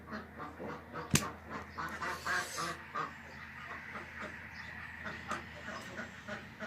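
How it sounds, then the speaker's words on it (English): Farm ducks quacking in the morning, a steady chorus of overlapping quacks at moderate distance, with one sharp knock near the start. "See if we can get action ducks."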